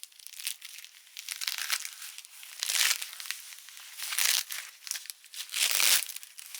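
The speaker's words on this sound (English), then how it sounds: "we will begin the unwrapping process on the first hand" Crinkly plastic packaging is peeled off the hand of a full silicone doll, a close rustling and crumpling that swells in several loud bursts between quieter handling.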